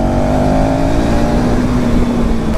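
A new motorbike engine at night revs hard under full throttle, a loud, close, sustained drone holding a steady high pitch.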